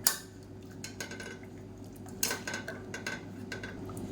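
Cooked lentils mashed in a pot with a wooden masher for a South Indian lunch soup: irregular close knocks, scrapes and clatters against the pot over a low steady hum, with no talking.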